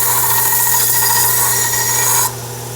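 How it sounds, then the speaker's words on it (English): A belt sander runs steadily against a metal piece in a workshop, giving a continuous loud abrasive whir with a steady motor hum that drops in intensity near the end, with no talking. "I could use the belt sander, but it's going to take a really long time"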